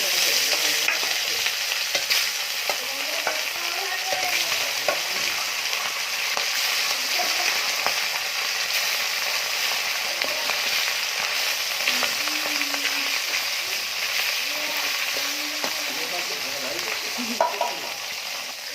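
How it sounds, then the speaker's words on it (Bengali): Pieces of catla fish fry in hot oil with a loud, dense, continuous sizzle and crackle that runs close and unbroken throughout, with no voices. "আবার দিয়ে দেবো, বাকি মাছগুলো সব ভেজে নেব।"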